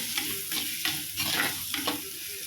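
Salted onions and fennel seeds sauté in a pan with a crackling sizzle, while a spatula scrapes and stirs in uneven bursts close by.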